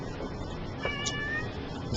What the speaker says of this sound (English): the cat decides she has to bother me.